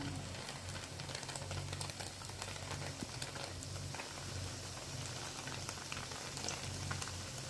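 Bread pieces frying one at a time in ghee or oil in a pan, giving a steady low sizzle and crackle that holds evenly throughout with no talk over it.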